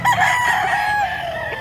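A Black Hennie rooster over six years old crows once, a loud close drawn-out call lasting well over a second, at a market in Mantalungon, Barili, Cebu.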